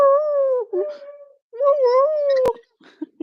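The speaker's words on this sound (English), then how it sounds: "The noises of a 19-year-old beagle." An elderly 19-year-old beagle-pug dog howls in two long, wavering, rising-and-falling cries separated by a short break, with a sharp click and some small yips trailing off near the end.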